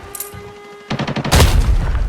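Gunfire in the video game Arena Breakout: a faint shot, then a rapid burst of loud close rounds followed by a heavier booming volley, sharp and dense.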